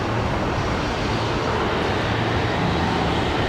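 Aircraft engine roar at Brisbane Airport, a steady broad rumble that stays loud and constant, heard from fairly close without any talking.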